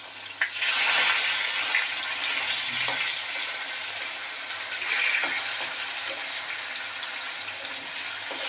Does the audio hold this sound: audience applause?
no